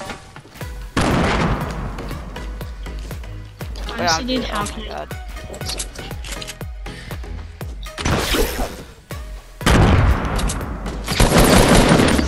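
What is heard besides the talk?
explosions and gunfire in a video game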